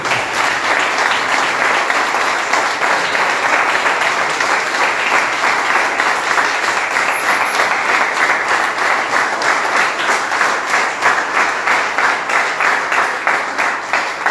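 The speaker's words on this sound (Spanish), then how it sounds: "Dale un aplauso al que viene" A church congregation bursts into sustained applause during a service, a loud, steady roar of many hands clapping that carries on evenly for well over ten seconds, with a faint rhythmic pulse running through it.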